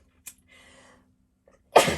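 A single loud, sharp sneeze bursts out near the end, preceded by a brief catch of breath and a soft murmur, otherwise quiet.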